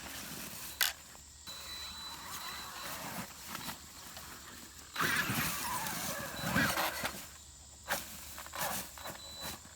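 A brushless-converted 1/10 Traxxas Summit RC crawler climbs over tree roots outdoors. Its motor whines and its drivetrain whirs in short bursts, with faint squeals as the wheels strain, heard up close and fairly quiet.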